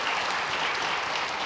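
Church congregation at a Christmas Sunday service clapping to welcome a newcomer, a thick, even burst of applause from the whole room, close and continuous.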